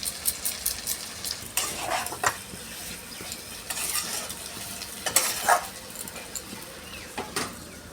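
Soaked, chopped banana flower with spice paste fries and sizzles in a pan, broken by repeated scraping stirs and metal clinks of a utensil against the pan, close and uneven in rhythm, with no talk.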